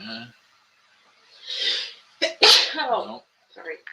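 One loud, close human sneeze with a sharp burst and a breathy tail, preceded by an intake of breath, with a person speaking briefly before and after.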